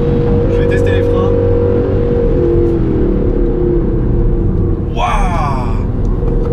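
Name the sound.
Aston Martin Vantage AMR braking hard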